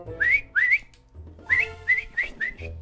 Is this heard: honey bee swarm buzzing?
no